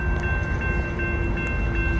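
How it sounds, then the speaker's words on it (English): A westbound Union Pacific 6029 intermodal and autorack freight train passes the Massingale Road railroad crossing in Marana, a loud, continuous rumble with steady tonal ringing and faint rhythmic wheel clicks. "Here's the train."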